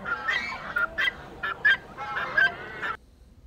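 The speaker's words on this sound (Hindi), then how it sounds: "ये भी टर्की है वाइट कलर में।" White turkeys caged in a fair zoo, calling in a series of loud, harsh honking gobbles and squawks close by, with several bursts in quick succession before falling quiet.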